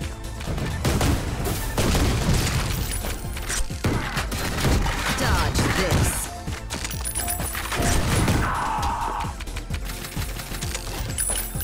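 Rapid shotgun blasts from the retro shooter Ion Fury, dense booming bursts layered with game effects and music, loud and continuous throughout with repeated overlapping shots.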